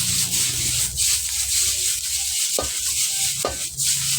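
Pieces of pork sizzle in a hot pan while being stirred and tossed, a loud continuous frying hiss broken by scraping and a few knocks of the utensil against the pan.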